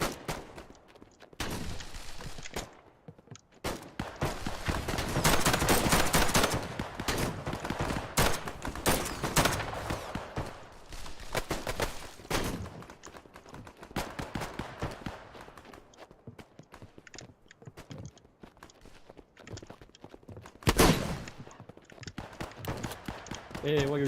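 Gunfire rattles through the Operation: Harsh Doorstop multiplayer shooter during a front-line battle. Dense volleys and single shots mix with footsteps over a long stretch, and several players chat over the fighting.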